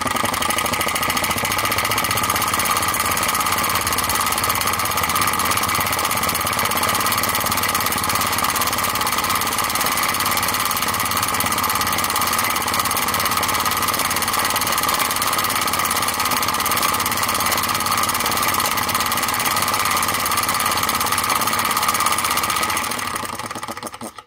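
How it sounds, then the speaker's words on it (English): An Enjomor flame licker vacuum engine runs steadily on a naked flame, giving a continuous fast mechanical chuffing and clatter at an even loudness until it stops abruptly at the end. "Quite an amazing engine, these, to just be running off an open naked flame."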